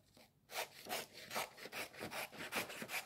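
Gingerbread house decorations being cut out, a close rhythmic back-and-forth rasping like a small saw or file, about ten quick strokes after a brief pause, with no talking.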